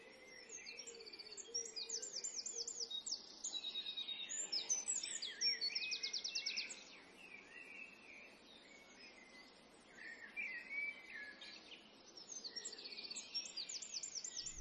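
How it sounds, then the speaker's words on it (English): Birds chirp and trill in a field recording, with overlapping bright calls and rapid trills that swell and fade in and out over steady faint background ambience, quieter in the middle. "This is why I've got this field recording of birds that again fades in and out."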